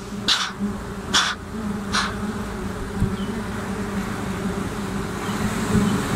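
Honey bees swarm around an underground natural hive, a steady low insect drone running throughout, with a few sharp bright crackles near the start.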